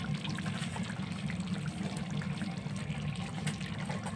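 Kewra water and rose water trickling from a spoon into a pan of chicken chaap, a soft steady liquid pour held close and continuous with no talking.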